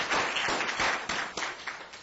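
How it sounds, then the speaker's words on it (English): A conference audience applauds a health advocacy panel with a dense, loud burst of clapping that thins and fades toward the end. "can we have another round of applause for our panel?"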